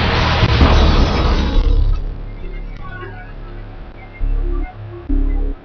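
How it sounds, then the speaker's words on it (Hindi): A loud, deep boom of a scooter bomb exploding in a crowded market, with a rumbling roar that slowly fades into low noise, followed by a couple of dull low thumps. "एक और धमाका होता है"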